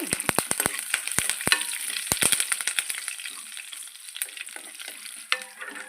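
Curry leaves and dried red chillies sizzle and crackle in hot oil for a lentil chutney tempering, with sharp pops and spatters over a steady fry that softens toward the end.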